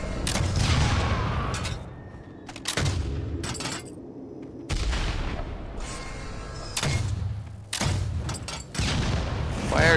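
Grenade blasts in the video game Project Stray erupt as a string of loud, booming bursts, several heavy explosions spaced through the stretch with crackling debris between them, close and dominant with no talk over them.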